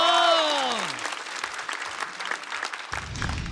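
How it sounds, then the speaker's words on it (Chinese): Loud audience applause and cheering greet a stand-up comedian taking the stage at a comedy competition show, a dense steady wash of clapping through the clip that dips briefly near the end. "热烈的掌声有请"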